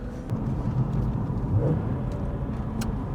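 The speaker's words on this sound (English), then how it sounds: "Fourth to third gear." A car engine rumbles steadily and close through a downshift from fourth to third gear, with one brief swell in pitch midway and no talking over it.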